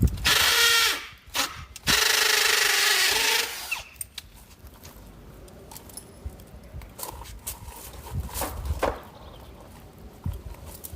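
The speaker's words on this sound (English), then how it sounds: "Switch bits to my 3/8. Finish drilling." A power drill fitted with a 3/8 bit bores holes for a gate installation, two loud whining bursts close up in the first few seconds, followed by quieter handling noises and faint scraping.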